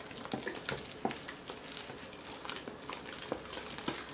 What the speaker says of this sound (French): Vous allez bien incorporer le lait dans votre purée en remuant à l'aide d'une cuillère en bois